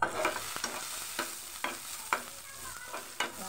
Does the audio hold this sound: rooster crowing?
no